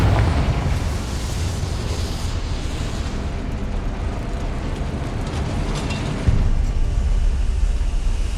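Confringo spell blast from Hogwarts Legacy, a dense, continuous rumbling roar with heavy low-end energy, swelling again near the end.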